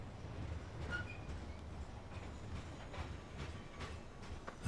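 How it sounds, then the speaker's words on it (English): A quiet train departing in the Farming Simulator 15 video game gives a low, steady rolling rumble with faint clicks and squeals, and no horn. "So press R to send the train."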